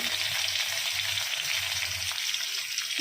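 Garlic fries in hot oil with bay leaf, dried red chilli and radhuni seeds, producing a dense, even hiss of sizzling that stays close and constant.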